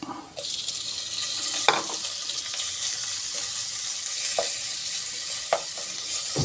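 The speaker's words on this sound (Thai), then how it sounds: "เจียว กระเทียมให้เหลือง เสร็จแล้วเราก็ใส่อกไก่ลงไป อกไก่ไม่ติดหนังนะครับ" Minced garlic and bite-sized skinless chicken breast frying in a pan, a steady hiss of sizzling oil broken by a few sharp bursts as food is added and stirred.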